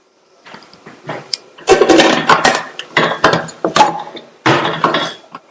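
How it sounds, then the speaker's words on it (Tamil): A pressure cooker lid is fitted and closed over a field bean gravy base: a series of close metallic clanks, scrapes and knocks in uneven bursts over several seconds. "நல்லா மிக்ஸ் பண்ணி விட்டுட்டு மூடி போட்டுடலாம்."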